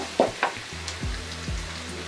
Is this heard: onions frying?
yes